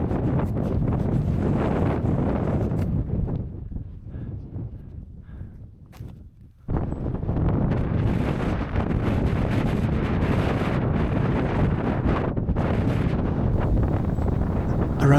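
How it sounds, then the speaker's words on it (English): Strong wind buffets the microphone near the summit of Asahi-dake in the mountains, a loud, continuous roar that eases briefly midway before surging back at full force. "Around here the wind was very strong."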